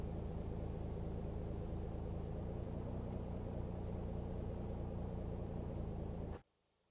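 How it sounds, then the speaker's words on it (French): Engine number 2 of an Airbus A319 spooling up during start in the X-Plane 11 flight simulator, a steady broadband roar and low rumble holding constant and loud, then cutting off abruptly near the end. "Démarrage moteur numéro 2."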